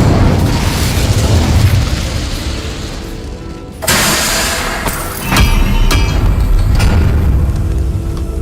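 Incendio fire spell in Hogwarts Legacy, a loud whooshing burst of flame followed by a second boom and several sharp crackling pops over rumbling game noise.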